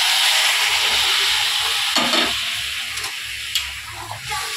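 Hot water poured into a sizzling curry being fried in a home kitchen, giving a loud broad steamy hiss with bubbling crackle and a brief stirring clatter throughout.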